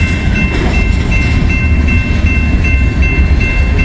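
A coal train rumbles past a crossing in a no-horn zone, heavy low wagon roar steady and loud throughout, with a repeating high bell tone dinging faintly above it.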